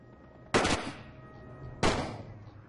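Two sharp, loud sniper rifle shots from a sniper unit in The Great War video game, about a second and a half apart, each cracking out with a brief decaying tail over a low background.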